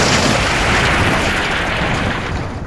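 A steam engine's tender derails and slams into battered coaches in a loud, roaring crash, a dense burst of rumbling impact noise that fades slightly toward the end.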